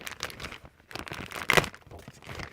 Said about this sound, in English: Same deal, plastic bag.